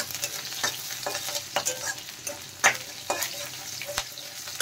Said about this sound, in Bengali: দেখেন মশলা ভাজা হয়ে গেছে।